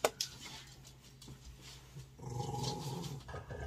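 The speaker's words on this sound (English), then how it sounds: "Stark, it growls when she gets picked up on the bed, so don't mind that." A pet dog being lifted onto a bed gives a low, rumbling growl that swells in the second half, close and fairly quiet, after a couple of brief rustling knocks at the start.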